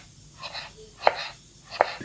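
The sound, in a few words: knife cutting peeled pumpkin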